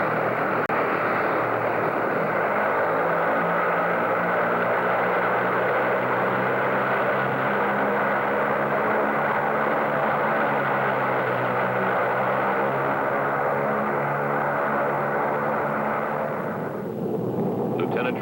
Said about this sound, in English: Lieutenant Tracy keeps the plane low over the terrain as planned.